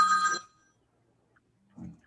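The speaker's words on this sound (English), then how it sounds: "Telephone. Somebody's got to take a phone call." Telephone ringing indoors during a real estate class, one short bright electronic ring burst at the start, then quiet, then a brief low murmur near the end.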